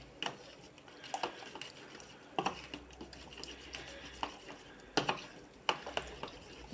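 A spoon stirs flour into a little water in a bowl to dissolve it, making soft scraping swirls with repeated light clinks against the bowl's side, close and fairly quiet, with no talking.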